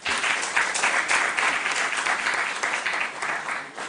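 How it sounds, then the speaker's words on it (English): Steady, dense applause from a quiz-show audience welcoming a new junior team member, filling the whole moment at an even, loud level without any talk. "A round of applause for her."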